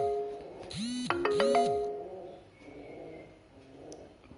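A notification bell sound effect plays two quick, bright bell dings in succession, each with a ringing, swooping tone, then fades into quiet.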